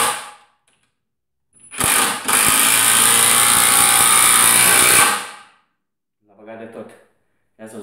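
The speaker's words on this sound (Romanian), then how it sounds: "Așa de simplu lucrează această bormașină." A Ryobi 18V cordless drill spins up close and loud in a steady whine for about three seconds, bracketed by short silences, with someone talking briefly afterward.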